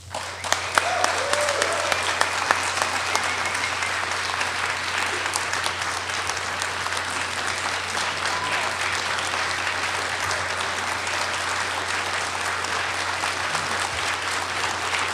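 Sustained, loud audience applause at a 9/11 symposium welcoming Dr. Steven Jones, steady clapping from a large crowd that holds for the whole stretch.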